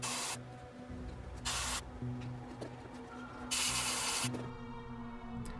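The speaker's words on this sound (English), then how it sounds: "I use black ink for this, simply because it's airbrush ready right out of the bottle." Airbrush spraying black ink in short hissing bursts, three or four separate sprays of a second or so each with pauses between, close and fairly quiet over a faint background hum.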